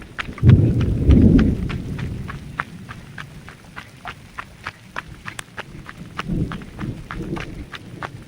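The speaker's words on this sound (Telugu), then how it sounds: "వర్షం వచ్చేస్తుందండి" Steady rain patters throughout in the Araku forest while deep thunder rumbles loudly near the start and rolls again more softly later on.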